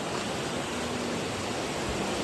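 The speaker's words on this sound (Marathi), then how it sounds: "खूप जास्त मोठा प्रवाह आहे हा पाण्याचा पाण्याचा आवाजच तुम्हाला येत असेल" Strong flow of a swollen river in the Kokan region, a steady broadband rushing roar that fills the whole clip with no break, heard close and alone.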